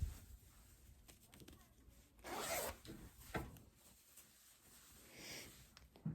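A zipper on a sewn duvet cover is pulled closed in a couple of quick, close rasping runs, with soft fabric rustling and handling noises in between.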